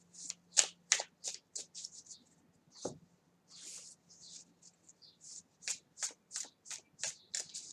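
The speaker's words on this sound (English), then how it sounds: "all my decks I always shuffle like this" A tarot card deck shuffled by hand at close range, a series of crisp papery riffling bursts in an irregular rhythm with a short pause midway, heard on its own without talk.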